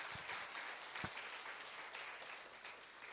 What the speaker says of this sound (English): So a big round of applause to you.